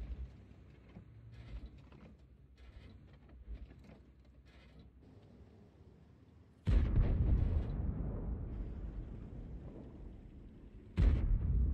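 Booming cannon shots from tanks in World of Tanks: a heavy blast hits partway through, followed by a long rumbling tail, then a second loud blast near the end, after a quieter stretch of muffled battle noise.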